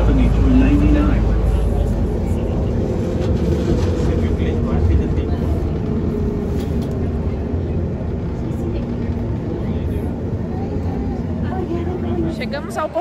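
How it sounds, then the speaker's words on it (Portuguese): An airport people mover train in Atlanta rolls along with a steady low rumble and whine that keeps going throughout, close and fairly loud, while people talk over it. "Então vamos pegar aqui o trenzinho e rumo à nossa viagem."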